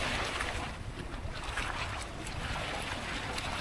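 Strong west monsoon wind at the Jakarta sea wall, heard as a continuous loud roar and rumble of gusts buffeting the microphone, mixed with the wash of large waves striking the seawall.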